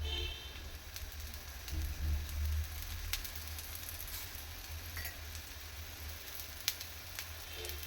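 Methi thalipattu flatbread fries in oil on a pan with a continuous close hiss and crackle, steady throughout, with a few sharper pops breaking through the sizzle.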